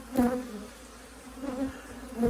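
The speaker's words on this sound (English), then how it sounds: "We got a load of 24 beehives heading out to the pumpkins." Honey bees buzz in the early morning around a truckload of 24 beehives being moved to a pumpkin patch, a steady close drone that swells now and then as bees pass near.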